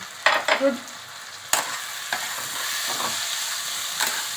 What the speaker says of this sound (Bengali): এবার এটাকে আমি কষতে থাকবো যতক্ষণ না তেল ছাড়বে কন্টিনিউয়াস ততক্ষণ নেড়ে দিতে হবে